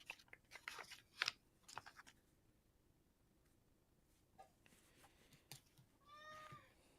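A cat gives several faint, quiet meows spread across the clip, with a longer, slightly louder meow near the end, set against a low background hum and occasional small rustles.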